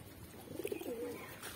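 A pigeon loft with a pink pigeon coming in gives a short burst of soft cooing, close and moderately loud over a quiet background.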